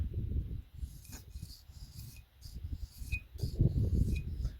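A blade is drawn in firm, repeated strokes across a sharpener, giving soft, close rasping scrapes with short pauses between passes.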